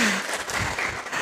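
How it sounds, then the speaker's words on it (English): Audience applause for a presenter at a healthcare conference, a steady dense wash of clapping throughout, fairly loud and without talk. "Please give applause to her."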